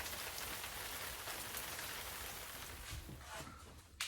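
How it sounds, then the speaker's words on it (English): Light drizzling rain in Halifax at 5 a.m. makes a close, steady hiss and patter, even throughout with a few small drips near the end, with no voices. "it's drizzling rain right now."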